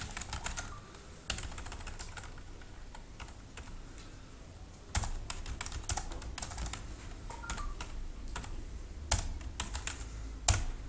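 Letters being typed on a computer keyboard while working in Microsoft Word: steady, close clicking keystrokes in uneven bursts with a few sharper, louder key presses, over faint room hiss and no talking.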